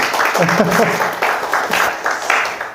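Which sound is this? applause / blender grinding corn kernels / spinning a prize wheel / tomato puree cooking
applause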